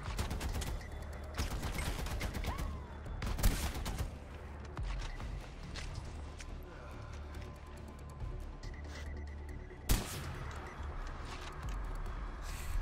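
Dense, loud gunfire from the shooter Far Cry 4 rattles almost continuously, with bursts and a few heavier reports over a rumbling game soundscape.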